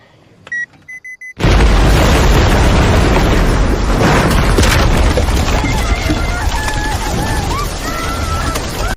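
In a survival film, explosives set on wooden crates go off with a sudden loud blast after a few short beeps, followed by a dense roaring rumble and debris noise that lasts several seconds.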